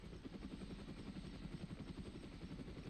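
Helicopter in the video game Arma: Resistance, its rotor producing a low, rapid, steady chopping thrum that holds constant and faint in the distance, with no other sounds.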